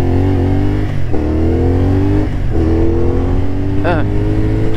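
A CFMOTO 450SR sport motorcycle from 2024 roars steadily close by during a combined braking test, its engine note climbing through the gears with several quick shifts and dips, loud and continuous.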